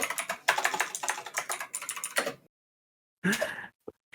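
Computer keyboard click-clacking close to the mic, a rapid burst of crisp keystrokes for about two seconds, then a pause and a short final flurry of taps.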